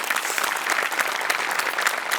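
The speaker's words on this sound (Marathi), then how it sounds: "पुन्हा एकदा जोरदार टाळ्या" A studio audience at a Marathi comedy show breaks into loud, sustained applause. Dense, even clapping continues throughout, with a faint crowd murmur underneath.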